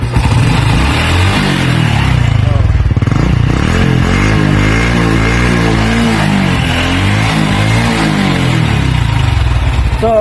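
A motorcycle engine running full-wave without a battery, loud and close, idling roughly then revving up and down in rising and falling waves, no voices.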